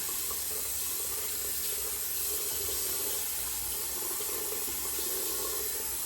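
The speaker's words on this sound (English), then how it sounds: "I'll wash my gloves again." Gloves being washed under a running tap, a steady, close rush of water into a sink that continues throughout.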